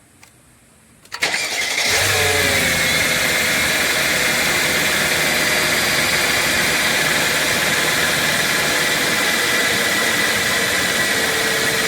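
After a short quiet moment a Mercedes M113 V8 engine cranks and starts, then keeps running with a loud, steady roar close by.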